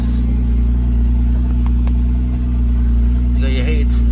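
A 2014 Porsche Cayman 981 with the 2.9 engine idles steadily and loud throughout, a constant low rumble with a couple of brief clicks and a short high whine near the end.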